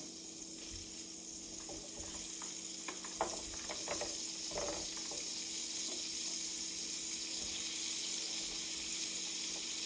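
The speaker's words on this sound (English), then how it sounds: "Make sure you hear a sizzle because you want your skillet to be really hot." Vegetables hitting a really hot skillet with vegan butter for hibachi tofu, a quiet steady sizzle under a faint hum, with a few scattered clinks and stirring taps midway.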